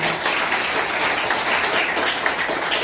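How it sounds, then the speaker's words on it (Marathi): Sustained applause rises from a crowd at a school function held for students, a dense steady patter of many hands clapping at an even volume with no voices on top. "खरं म्हणजे तुमच्या दोघांसाठी इथे जोरदार टाळ्या झाल्या पाहिजेत"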